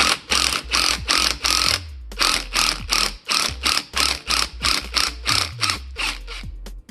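Impact wrench driving a 1/4-inch hex adapter to remove exhaust manifold studs from a 2JZ engine, firing in repeated short rattling bursts with brief pauses between them, close and loud with no talking.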